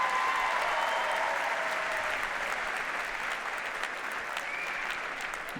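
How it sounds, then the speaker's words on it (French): Audience applause fills a large hall at a ceremony in the Grand Rex, a dense, steady wash of clapping that holds at an even level and fades only slightly toward the end. "on va les applaudir encore pour leur premier Rex"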